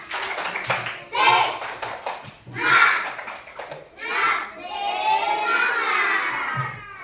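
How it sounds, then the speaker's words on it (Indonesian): Schoolchildren in a classroom chant together in bursts of loud, close voices, punctuated by rhythmic clapping and taps, with a few quieter pauses between phrases. "Sekarang kita tepuk semangat."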